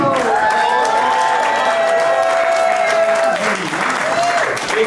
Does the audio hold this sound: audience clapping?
yes